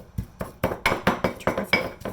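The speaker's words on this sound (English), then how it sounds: "mashing the garlic and the salt together" Garlic and salt are mashed together in a bowl, producing a quick, regular series of sharp clinks and knocks of utensil against the bowl, about four per second, close and clear with no talking.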